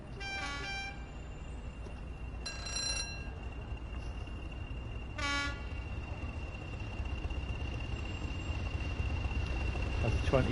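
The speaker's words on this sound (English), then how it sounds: "Driver gives a bit of a toot." A train driver sounds the horn in a few short toots, bright and fairly loud, spaced over several seconds above a low rumbling engine and background hum, with no talk.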